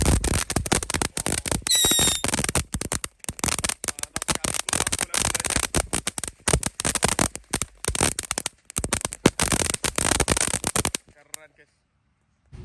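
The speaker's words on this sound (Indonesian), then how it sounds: "Kita nyalakan air mancur colorful fountain. Ini warna biru, kita lihat seperti apa." A blue colorful fountain firework burns with continuous dense crackling and hissing for about eleven seconds, loud and close, then cuts out to near silence; faint voices may sit underneath.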